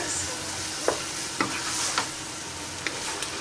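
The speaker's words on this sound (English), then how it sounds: "Stir and fry, that's it." Noodles stir-fried in a pan, a continuous loud hiss of frying broken by several quick scraping strokes of a utensil, close up, with no speech.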